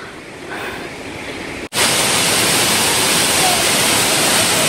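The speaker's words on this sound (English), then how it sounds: "So this is the main waterfalls" Waterfall at Ng Tung Chai on Tai Mo Shan, Hong Kong, roaring as a loud, steady broadband rush that swells abruptly partway through and stays near and constant.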